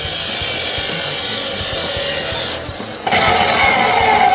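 A saw cutting through wood in a workshop while building a gate, a steady loud continuous rasping drone that briefly dips and then resumes, close up with no talking.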